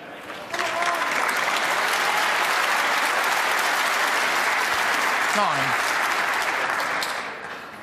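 A snooker crowd at the Northern Ireland Open bursts into loud, sustained applause lasting several seconds, watching Ronnie O'Sullivan against Jimmy White. A commentator's voice is briefly heard beneath the clapping before it fades out.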